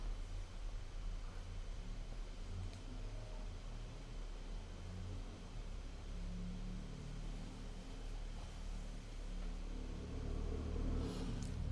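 A car driving through Veracruz, Mexico, with a continuous low road and engine rumble heard from inside the cabin, steady throughout with slight swells and no talking.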